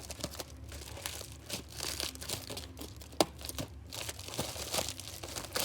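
Plastic packaging being cut and torn off a video game box, steady close crinkling and tearing with rustling scrapes and one sharp crack, continuous and fairly quiet with no talk.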